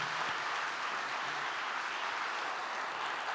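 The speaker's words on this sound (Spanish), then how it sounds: "apláudale fuerte al Rey" A church congregation applauds, a continuous hiss of many hands clapping heard at a distance and fairly faint, steady from start to finish.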